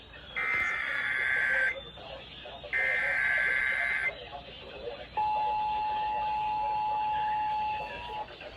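NOAA Weather Radio Emergency Alert System test for Florida: two loud bursts of harsh two-tone data-like signal separated by a short gap, then a long steady single-pitch attention tone, clear and close.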